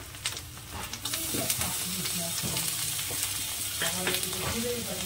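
Ginger-garlic paste frying with onions in hot oil in a pan, a steady loud sizzle running throughout, with bursts of crackling and stirring scrapes.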